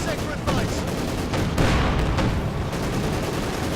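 Dense light machine gun and assault rifle fire in the Company of Heroes 2 strategy game, loud sustained bursts with sharp cracks and a heavier boom partway through, with a commentator talking over the battle.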